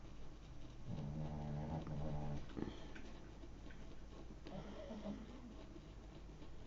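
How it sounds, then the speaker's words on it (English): Dogs in a room make quiet whining, snuffling sounds. A brief, louder burst comes early on, and softer rustling and breathing follow at low volume. "As you can probably hear, I've got the dogs in with me today."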